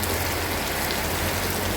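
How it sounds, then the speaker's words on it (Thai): Rain falling steadily after a Thai amulet blessing ceremony, a dense, even hiss of drops on surfaces without pause or voices. "ปลุกเสกเสร็จฝนตกครับ"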